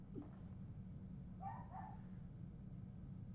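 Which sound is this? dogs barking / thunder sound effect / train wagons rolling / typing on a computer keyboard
dogs barking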